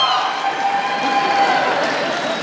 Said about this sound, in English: That was a bigger cheer than we got